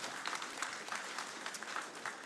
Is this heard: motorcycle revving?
no